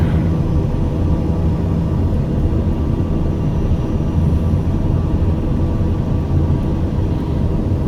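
TBM 850 turboprop engine in a flight simulator, a steady, even drone with a constant low rumble and no pauses throughout.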